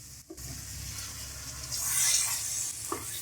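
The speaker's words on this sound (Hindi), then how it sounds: "इसको हम 7 से 8 मिनट अच्छे तरीके से फ्राई कर लेंगे।" Half a kilo of mutton frying with garlic in oil over high heat, a close steady hiss that swells in the middle with a light knock of stirring near the end.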